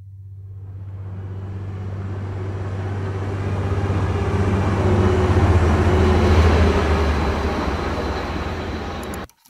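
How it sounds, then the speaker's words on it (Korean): A train sound effect gives a loud, continuous low rumble that swells gradually, holds, then stops abruptly at the end, with no voices. "네, 그리고 뭐 트레인."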